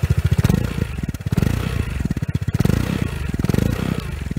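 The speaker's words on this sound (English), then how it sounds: "So we've got the engine running at the moment." A Vespa GTS scooter engine idles while warming up, a loud, close, steady pulsing chug with rhythmic mechanical clatter throughout.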